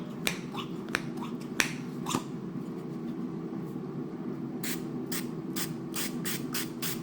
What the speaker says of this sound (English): I'm just going to spray the top with some olive oil spray.